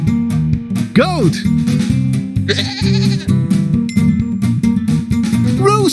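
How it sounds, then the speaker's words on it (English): A goat bleats in a wavering call twice, once early and again near the end, over steady background music with rhythmic low tones. "Goat."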